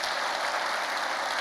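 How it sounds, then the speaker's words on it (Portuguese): Church congregation breaks into a brief, loud burst of dense, steady applause with no voices over it. "dá um aplauso ao Senhor"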